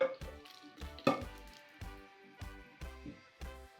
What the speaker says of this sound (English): now we are going to whisk in our slightly cooled syrupy mixture into our dry ingredients